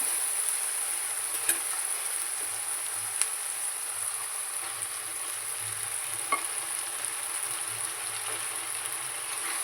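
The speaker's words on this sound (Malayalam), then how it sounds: "ചിക്കൻ ചേർത്ത് നന്നായിട്ടൊന്ന് വഴറ്റണം." Chicken sizzles with softened onions in a pan for a Kerala-style chicken thoran, a close, continuous frying hiss with a few faint stirring clicks and no talk.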